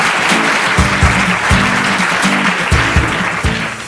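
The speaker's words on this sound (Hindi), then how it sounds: "जोरदार तालियां हो जाएंगी इनके लिए" A studio audience claps for a quiz contestant on a general-knowledge game show, loud, close, dense applause, with a low thudding beat running underneath.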